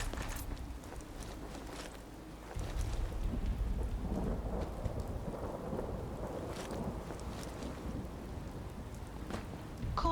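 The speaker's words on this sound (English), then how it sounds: "Caution, rain approaching." Steady rain in a thunderstorm, a dense hiss that swells to a louder wash partway through, with low rumbles of thunder underneath, no talking.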